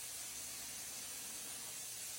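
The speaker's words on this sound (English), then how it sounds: "From spraying primer, this is a gray primer." A spray gun lays down gray primer on furniture inside a spray tent, a steady, even hiss of atomized paint throughout.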